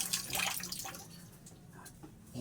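Weak trickle of water from a household tap during laundry chores, a steady soft splashing hiss that is fairly close and quiet, fading slightly toward the end with no talk.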